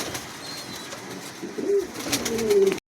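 Pigeons cooing inside a pigeon showroom, low throaty coos rising in the second half over a busy background of faint chirps and rustling, with no talk.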